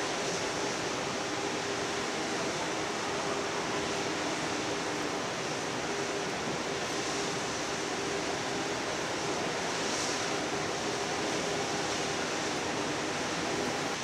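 Broad, steady roar of Fukuroda Falls, the tiered waterfall in autumn, taken from directly in front; continuous dense rushing water fills the whole span, loud and unbroken, with no voices.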